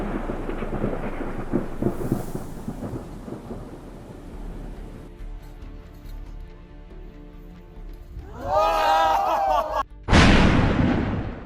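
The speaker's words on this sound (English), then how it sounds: "Lightning spread like spider webs across the sky over the Yucatan Peninsula, Mexico, a majestic and powerful sight of nature" Thunder rumbles from a lightning storm over the Yucatan Peninsula, Mexico, starting with a loud, rolling low boom that fades, then sharper crackling bursts and a final loud clap near the end.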